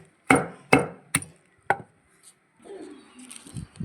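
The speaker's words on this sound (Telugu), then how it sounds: "పచ్చిమిర్చిని కూడా బాగా మెత్తగా అయ్యేంత వరకు మనము ఇలా దంచుకోవాలండి" Green chillies are pounded in a mortar for an Andhra-style pickle: four hard, separate thuds in slow succession, then softer grinding and scraping, close and without speech.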